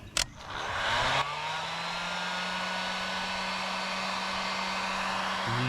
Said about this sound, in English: this one right here does real well for shrinking down connectors because it gets that heat on both sides of it